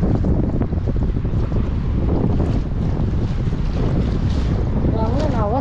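Strong wind buffets the microphone while fishing out on open water from a boat, a steady loud roar of gusts with water wash beneath, continuous through the whole stretch.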